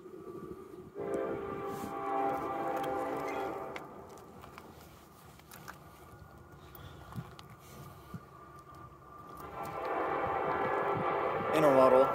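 An intermodal freight train rolls past with a steady rumble and clatter, and its horn sounds loudly at the start and again near the end. People talk briefly over it.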